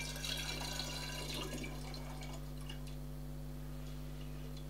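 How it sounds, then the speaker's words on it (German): Warm tap water runs from a faucet into a bottle during homemade ginger beer preparation, a steady splashing flow with some dripping and clinking that tapers off, under a constant low electrical hum. "Ist jetzt warmes Wasser. Ich kann also meine Hand noch reinstecken, spüre aber, dass warm ist. Und fülle die Flasche damit auf."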